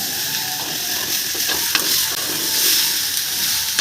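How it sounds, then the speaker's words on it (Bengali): Mixed vegetables with drumstick pieces are stirred in a pan for a Bengali shukto. A busy, close frying sizzle mixes with scraping and knocking stirring strokes throughout, with no speech. "আর সবার শেষে সজনে ডাটা দিয়ে দেবেন আর সমস্ত সবজিগুলো একটু ভালো করে নাড়াচাড়া করে নেব"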